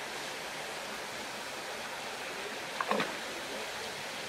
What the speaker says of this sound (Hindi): और इधर पीछे भी देखिए पूरा एकदम झरना टाइप का है